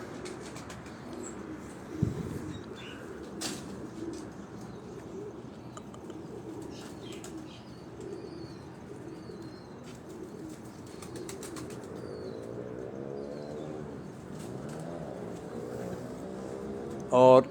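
Pigeons on a rooftop make faint cooing and occasional wing flaps, with a louder burst of flapping near the end, while someone speaks steadily over them.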